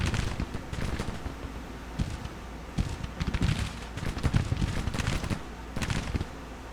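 Musket volleys from a battle in the Grand Tactician: The Civil War strategy game, a continuous crackle of distant and mid-range gunshots with scattered louder pops, no voices.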